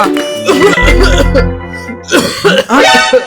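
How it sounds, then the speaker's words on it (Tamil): A man coughing and clearing his throat, several harsh loud coughs in quick bursts close up, with voice-like rasping between them. "என்ன அப்பா இப்படி இருமுறாரு?"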